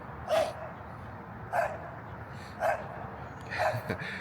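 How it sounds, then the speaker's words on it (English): A dog barks four times at an even pace, each bark sharp and fairly close against a quiet background. "He's just barking at you while you're sitting there"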